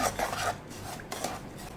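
Puttu flour being dry-roasted and stirred in a pan, with a steady close scraping and rasping of the spoon against the metal, slightly louder in the first half.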